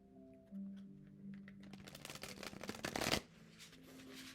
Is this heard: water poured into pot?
no